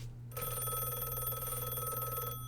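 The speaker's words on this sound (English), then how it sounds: "Oh, a phone. Pick up phone." A telephone rings inside a video game, a steady electronic bell tone that starts abruptly and holds loud and clear for about two seconds before cutting off.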